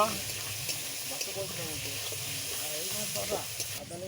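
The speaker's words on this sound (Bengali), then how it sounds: "কষানো হচ্ছে" Tomatoes with ground cumin and coriander sizzle steadily in a hot pan during home cooking, a continuous close frying hiss with faint voices in the background.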